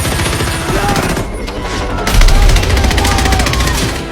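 Machine gun fire used as a sound effect, loud sustained bursts of rapid shots with heavy low booms mixed in, continuous across the whole stretch.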